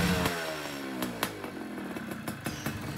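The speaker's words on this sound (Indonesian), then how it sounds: "Ini ada suara di mesin dan motor kayak tornado ya suaranya" A Yamaha Tiara S120 motorcycle engine, a rare model awaiting restoration, runs with a buzzing two-stroke-style drone, the pitch sweeping down in the first seconds, then a steady rough idle with a few sharp pops.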